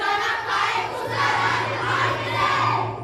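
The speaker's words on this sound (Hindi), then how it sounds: "अब ये कौन चिल्ला रहा था और वो क्या चिल्ला रहा था?" Crowd of people shouting together in a Hindi comedy skit, a continuous dense roar of many voices that swells and falls over a few seconds, with a low steady hum beneath.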